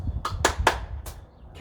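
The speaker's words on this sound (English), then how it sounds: "Can I throw, clap my hands and catch?" Four quick, sharp hand claps during a beanbag throw-and-catch game, spaced unevenly across a second and heard close and alone.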